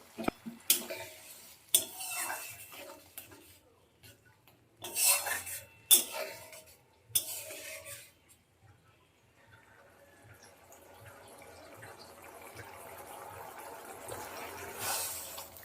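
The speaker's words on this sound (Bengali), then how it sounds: "এবার খুবই অল্প পরিমাণে এতে জল দিয়ে দেবো" Small amount of water poured into fried, oil-releasing spice paste in a pan while cooking a Bengali bele fish jhal, giving a few sharp clattering knocks and splashes, then a steady soft sizzling simmer that builds slightly toward the end.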